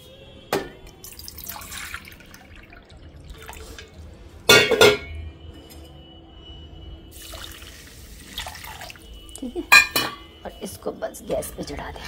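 Water is poured into a bowl of sugar in a home kitchen to make syrup for gulab jamun, with splashy pours, drips and sharp clinks of the bowl, loud in short bursts over quiet gaps.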